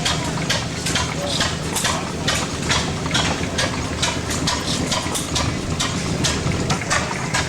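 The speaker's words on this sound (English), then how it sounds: "It's a hot air engine. Stirling engine. Runs on heat." A Stirling hot air engine heated by an alcohol burner runs with a rapid, steady mechanical clatter, its regular knocking beats repeating close by with a busy, noisy background.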